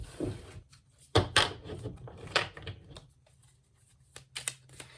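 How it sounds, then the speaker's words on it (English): A small Everyday Tarot deck shuffled by hand, giving irregular papery riffles and sharp slaps of cards in quick bursts, close and moderately loud, with short pauses between bursts. "Let's do some initial shuffling for the small Everyday Tarot."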